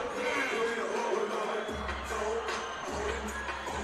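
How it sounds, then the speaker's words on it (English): A large sold-out crowd files out of the gym after a South at North High School basketball game, a steady, dense murmur of many voices and shuffling that fills the space without pause. "Crowd starting to file out, and it's a big crowd."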